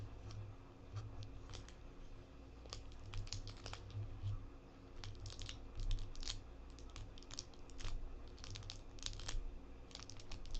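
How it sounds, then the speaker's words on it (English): Close, quiet ASMR crinkling comes in a steady run of small crackles and rustles over a low hum, with no voice. "I just love those crinkles"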